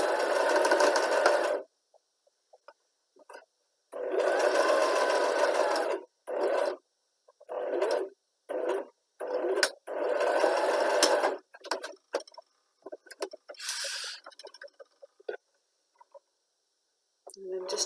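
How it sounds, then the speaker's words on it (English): A sewing machine stitching a centimetre seam in fabric for an Easter chick, running in several bursts of steady whirring separated by pauses and small clicks. "So again, centimetre seam allowance, needle down, forward and back to fasten off."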